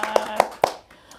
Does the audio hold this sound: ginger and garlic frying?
no